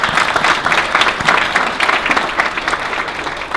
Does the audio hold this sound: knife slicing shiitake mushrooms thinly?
no